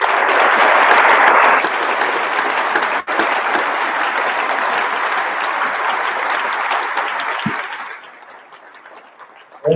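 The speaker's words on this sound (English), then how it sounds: "Round of applause." An audience at a 2019 College Pathways commencement ceremony applauds, a dense sustained roar of many hands clapping that carries steadily for about eight seconds before fading off, with no talk over it.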